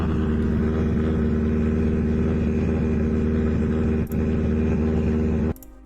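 A full-spec Subaru S12 WRC "Hawkeye" race car with a carbon fibre intake and turbo runs loud and close. Its engine holds a steady, deep, throbbing note before cutting off abruptly near the end.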